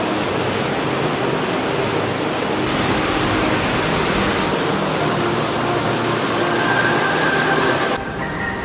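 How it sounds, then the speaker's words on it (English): Loud, constant roar of a massive waterfall, a dense rushing wash of water that fills the whole scene without letup. "there's a massive waterfall over here"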